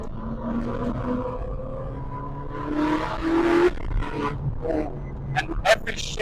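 A naturally aspirated Ferrari 458 engine climbs in pitch as it revs toward high RPM, peaking loudly before a shift, with someone talking over the roar.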